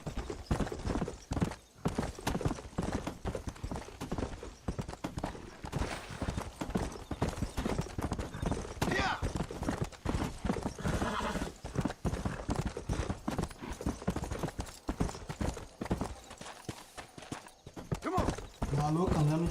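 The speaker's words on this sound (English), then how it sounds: "Maluco, andando de cavalo assim" Steady clip-clop of horse hooves galloping in Red Dead Redemption, a fast continuous rhythm close up, with someone talking over it throughout and a brief whinny near the end.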